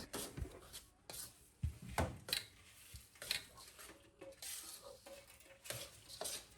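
A spoon scrapes and clatters in a pan while a methi pak mixture of fenugreek and jaggery is stirred and edible gum is added, giving irregular metallic knocks and scrapes over a faint sizzle, quiet and close.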